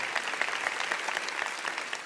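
A conference audience claps after a speaker's keynote line, an even, sustained burst of crowd applause with crisp individual claps spread across the room.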